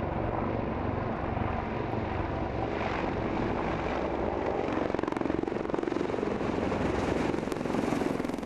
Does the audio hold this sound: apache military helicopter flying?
yes